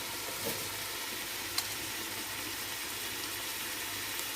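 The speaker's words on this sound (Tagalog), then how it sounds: "Gisahin ko lang siyang ganyan." Food sautéing in a hot pan gives a steady, even sizzle at moderate level, with one brief clink of a utensil partway through.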